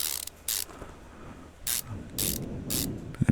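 Screws going into a car gearbox oil pan, heard as bursts of bright ratcheting clicks from a hand tool, with short pauses between runs and a few soft knocks at the end.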